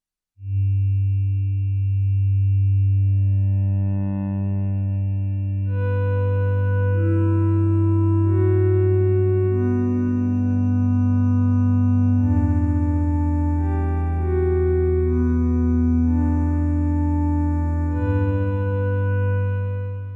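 A sustained Korg minilogue xd synthesizer pad holds a deep bass drone while soft chord tones swell and shift above it, with smooth attacks, gentle releases and a reverberant tail.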